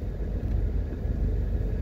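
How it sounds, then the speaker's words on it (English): A car rolls past on a rough back road in Portmore, Jamaica, heard close up as a steady low rumble of engine and tyres that holds evenly throughout. "Let this car pass us."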